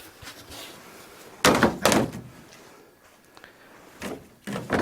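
A door is handled and closed, with a couple of loud close thumps and knocks separated by quieter shuffling, then more bumps near the end.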